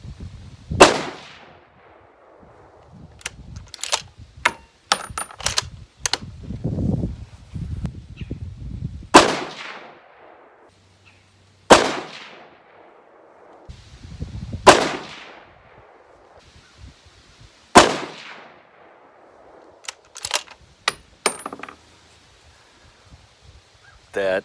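.308 rifle firing PPU 155 gr match ammunition outdoors: five sharp, loud shots spaced a few seconds apart, each with a trailing echo, with rustling and handling noise between them.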